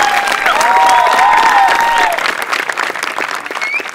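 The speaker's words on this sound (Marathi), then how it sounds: "टाळ्या सरांसाठी" A studio audience at a Marathi comedy show bursts into loud, sustained clapping and cheering that fades slightly toward the end, with some tonal sounds ringing over it early on.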